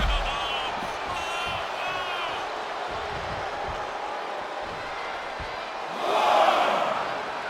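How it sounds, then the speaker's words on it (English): A raucous wrestling arena crowd at a SmackDown event roars in a steady, dense wash of cheering, with a louder swell of shouts near the end. "A raucous SmackDown crowd."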